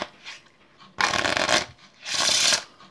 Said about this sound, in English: another cut, another shuffle